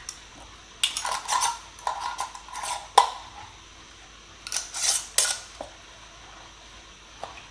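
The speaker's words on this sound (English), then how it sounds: "And then we're just going to screw them on finger tight." Metal lids being screwed finger-tight onto hot glass canning jars of blackberry jam, heard as a run of close, bright clinks and scraping twists in irregular bursts with short pauses between.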